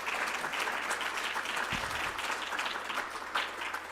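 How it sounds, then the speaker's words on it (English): Applause from a town hall audience at a meeting on youth mental health: steady, moderately distant clapping from many hands that holds evenly throughout, with a faint low background hum and no clear talk. "let's give them a big round of applause"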